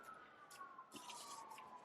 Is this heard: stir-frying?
no